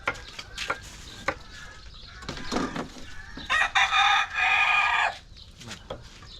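A rooster crows loudly and close by, a long drawn-out call rising and holding, preceded by scattered clucks and background rustling.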